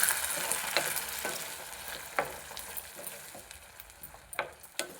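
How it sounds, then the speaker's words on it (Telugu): Veldt grape pulp for chutney sizzles in a pan while a spoon stirs it, with soft scraping strokes and clinks at irregular intervals over a low, steady frying hiss. "ఇదిగోండి గుజ్జు వేసేస్తున్నానండి."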